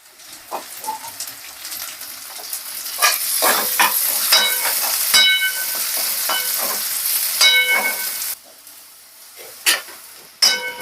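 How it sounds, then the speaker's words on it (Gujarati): Onion sautéing in a pan for a veg club sandwich, a loud continuous sizzle and crackle with repeated scraping stirs of a spatula, the frying dropping briefly quieter near the end before flaring again. "ડુંગળી થોડીક વાર તતરાવા દેવાની"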